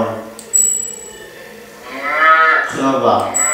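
A cow moos loudly twice, long low calls with a rising harmonic tone, the second one nearer and fuller; faint background noise between.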